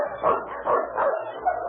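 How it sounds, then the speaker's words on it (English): A sled dog team in the Arctic approaches with a chorus of yipping, barking dogs, rhythmic bursts rising and falling at a moderate distance, heard alone without voices. "Do you hear that? A dog team."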